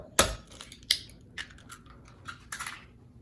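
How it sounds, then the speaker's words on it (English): Two eggs cracked for a French omelette: a sharp shell crack followed by another, then softer clicks and light handling sounds, close and quiet with no talk. "First, you're going to start by cracking the eggs."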